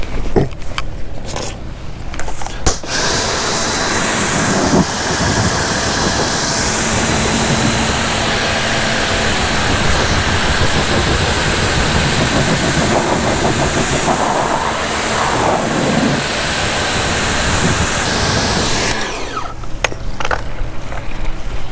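Pressurized water spray hissing steadily against a car tire after a wash, a continuous broad rush for most of the stretch, loud and close, starting and stopping abruptly with quieter gaps at each end.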